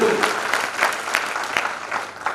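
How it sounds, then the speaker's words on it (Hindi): An audience in a hall applauds: dense, steady clapping from many hands at close range, running throughout without a break. "आप लोगों के लिए बहुत बहुत तालियां"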